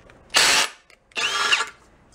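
A power drill bores through a 14-gauge sheet-metal gas tank being built for an engine-assisted bicycle, in two loud, close bursts of about half a second each with a short quiet gap between them.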